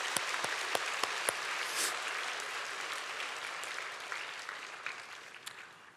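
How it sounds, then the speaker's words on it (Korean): A church congregation at a special early-morning prayer service breaks into applause, starting with several sharp separate claps that swell into sustained clapping and then taper off. "박수 한번 치고 시작하겠습니다"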